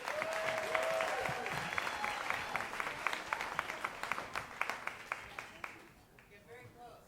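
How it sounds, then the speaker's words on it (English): An audience at a storytelling slam applauds in a warm, full burst that gives way to a few distinct rhythmic claps before fading out, with voices and cheers mixed in early. "A round of applause for Shamanth."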